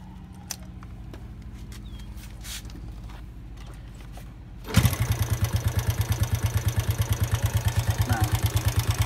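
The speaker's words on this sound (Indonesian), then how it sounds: "kita coba nyalain motor" Yamaha Jupiter motorcycle engine with a weak battery starting up: quiet clicks and handling noise, then a sudden catch into a loud, fast, even putter of idling close by.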